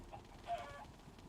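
Chickens clucking in the Minecraft video game, a faint short cluck standing out briefly over low steady game background noise, with no talking.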